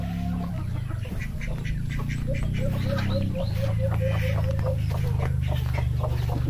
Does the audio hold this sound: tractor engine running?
no